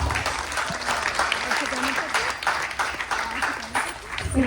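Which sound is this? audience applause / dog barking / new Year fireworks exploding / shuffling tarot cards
audience applause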